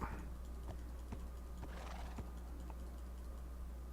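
A horse in the Minecraft video game moves about with a few faint, spaced clip-clop hoof clicks over a quiet background hum.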